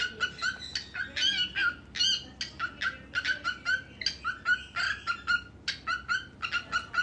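Pet bird calling in rapid, repeated chattering squawks and shrill chirps, close and fairly loud, with a busy uneven rhythm and no talking.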